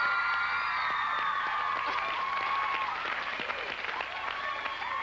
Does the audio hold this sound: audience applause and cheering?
yes